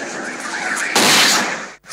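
A sudden loud boom from a meteor exploding in the sky bursts in after a low rumble, then a roaring wash of noise that fades and cuts out.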